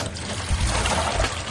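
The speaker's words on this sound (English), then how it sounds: "The first thing I like to do is I like to add really hot water." Really hot water, not boiling, poured by hand for homemade liquid laundry soap, a steady close splashing and trickling stream that runs throughout with no speech.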